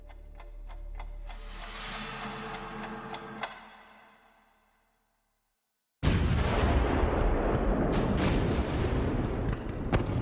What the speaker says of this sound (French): L'escadron de l'amiral Somerville lâche l'une des plus grandes bordées de canons de l'histoire maritime.